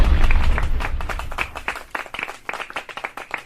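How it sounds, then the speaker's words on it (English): A brief burst of scattered hand clapping from a small group, dense at first, then thinning into a few uneven claps. "clap it up for those 3."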